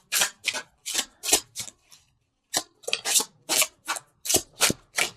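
Tarot cards are shuffled by hand in a series of short crisp riffling and rubbing bursts, close and fairly loud, with a brief pause partway through.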